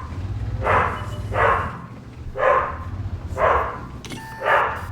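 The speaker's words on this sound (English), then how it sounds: "And Marty's barking." Dog named Marty barking indoors, five separate loud barks at a steady, roughly evenly spaced rhythm over low background rumble, with no voices.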